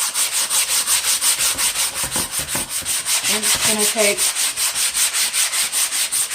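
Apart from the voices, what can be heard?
sanding a wooden piece along the grain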